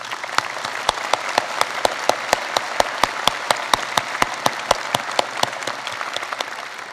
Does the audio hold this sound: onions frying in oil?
no